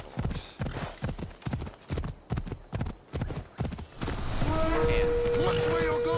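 Rapid galloping hoofbeats from a horse in Assassin's Creed Odyssey pound out a close, loud rhythm for about four seconds, then give way to a dense wash of sea and boat sound with a whinny-like tone.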